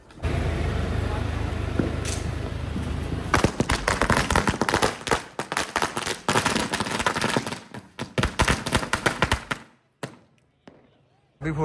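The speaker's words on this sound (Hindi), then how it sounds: "जला रहे हम मुर्गा छाप की लड़ी, ये है 3-4 मीटर बड़ी लंबी लड़ी" A 3-4 metre string of Murga Chhap firecrackers set off during a Diwali celebration, a rapid, loud crackling burst of bangs lasting several seconds, nearby and outdoors, with voices in the background, then fading to quiet.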